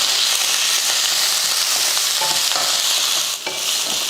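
Coriander and curry leaves sautéing in a pan for chutney, a steady close sizzle with stirring scrapes running throughout, loud and continuous with no voices.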